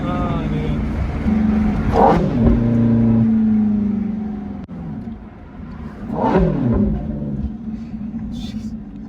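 A Ferrari F430 engine revs hard while driving, with two rising and falling surges of engine roar close by, a strong low rumble throughout and gear-change dips between them; a voice is faintly present.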